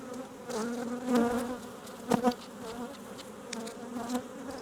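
Bees from an aggressive hive buzz close by, several droning wingbeats weaving together with a few louder passes as individual insects fly near, steady and unbroken throughout with no one talking.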